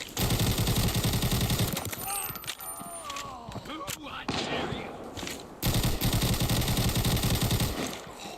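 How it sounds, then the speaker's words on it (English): Bursts of rapid automatic gunfire in the mobile shooter Arena Breakout Mobile, loud sustained volleys at the start and end with scattered single shots, clinks and rattles in between. "Not sure what all that gunfire was for."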